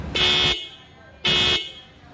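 Two short, loud car horn honks separated by a brief pause, with a faint background hum between them.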